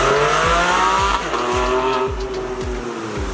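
A Porsche 718 Cayman GT4 mid-engine car pulls hard through repeated upshifts, each gear's engine note sweeping up then dropping, loud and close from inside the cabin, with faint tire noise underneath.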